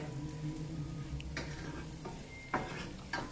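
Bacon and garlic sizzle steadily in a frying pan while being stirred, with a few sharper clinks of utensil against pan near the end, close and continuous.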